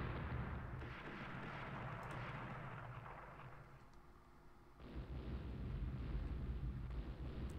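Naval shellfire and heavy explosive booms rumble from a Rule the Waves battle as a battleship takes hits, dense and continuous with low rolling thunder throughout and a sharper swell near the end.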